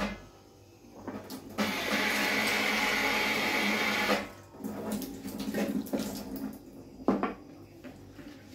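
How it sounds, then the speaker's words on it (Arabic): Kitchen tap runs steadily for a few seconds, a loud close hiss of water, surrounded by clatter and handling noises while dough is being prepared. "بصوا انا هجيب ميه عادي جدا من الحنفيه"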